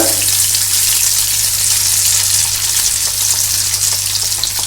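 Dhoka lentil cakes fry in hot oil with a loud, constant bright sizzle close up, steady throughout over a low electrical hum, with no one speaking.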